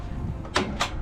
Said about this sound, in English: There's a door here